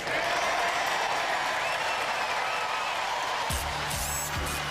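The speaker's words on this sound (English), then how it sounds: "a big round of applause from everybody in our audience" A large studio audience at a robot combat show applauds steadily and loudly throughout, with a low rumbling tone entering near the end.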